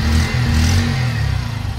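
A Bajaj Platina 100cc motorcycle engine runs steadily at close range, a low throbbing idle with slight rises in pitch, loud and continuous without any voices.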